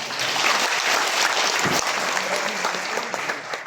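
A large audience at an annual business conference claps in a dense, sustained round of applause at close range, holding steady and tapering slightly at the end.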